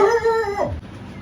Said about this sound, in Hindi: वो जैक की आवाज़ थी जो आपने बहुत सालों बाद सुनी होगी मेरे पूरे व्लॉग में कि वो भौंकता भी है।